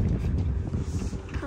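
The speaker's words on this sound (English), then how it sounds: "Oh, actually, it's windy now." Wind buffets the microphone in a steady low rumble across the whole moment, with no clear voices.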